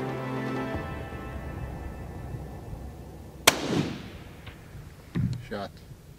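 A single sharp rifle shot during a South African safari hunt cracks out of a quiet outdoor scene and rings briefly. A softer thud or knock follows a couple of seconds later.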